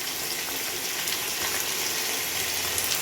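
Small onions, brinjal and curry leaves sautéing in a pan, a continuous loud broadband sizzle and crackle that holds steady throughout with no talking.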